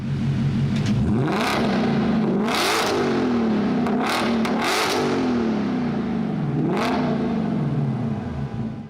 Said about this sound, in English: Take a listen to a couple of revs in this car.